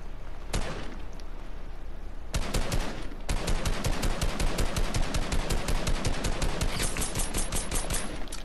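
Rapid gunfire rips through a video game battle: a single crack, then dense automatic bursts of sharp, evenly spaced shots that run on loud and close for several seconds.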